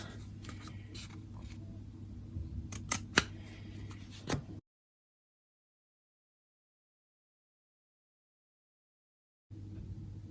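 Scissors snip through craft paper, cutting out small squares: a run of close, sharp clicks and crisp cuts over a steady low room hum, then a gap of silence before the hum returns.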